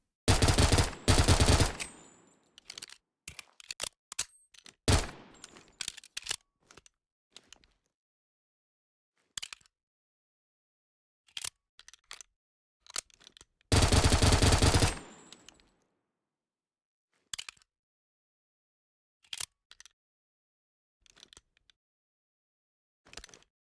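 A gun in modded Minecraft fires in sharp, loud bursts of rapid automatic fire alternating with scattered single shots and short gaps of silence, with two long sustained volleys.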